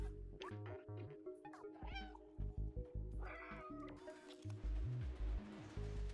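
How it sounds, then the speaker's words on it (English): A cat meows repeatedly in the video game Stray, insistent and somewhat drawn-out cries that come one after another over a busy bed of game music and effects. "Irritated meowing intensifies."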